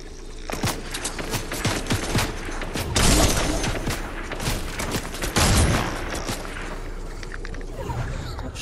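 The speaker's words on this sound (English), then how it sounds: "Stop shooting me like that." Gunfire in the video game Fortnite rattles in scattered bursts and single shots with heavier impacts around the middle, fairly loud and busy throughout, with no clear talking.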